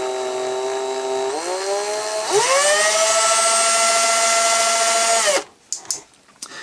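Power drill spinning up to drill a hole in a vintage 12-inch Boba Fett figure, a close whine climbing in pitch in two steps and holding steady, then cutting off into a few faint knocks.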